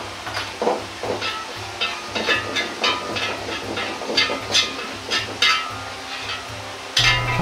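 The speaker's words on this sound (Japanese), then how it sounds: "粒山椒を入れ、軽く炒めていきます。" Whole Sichuan peppercorns stir-frying gently in oil over low heat produce a soft sizzle, broken by a rhythmic series of scraping and stirring strokes and ending in a louder burst.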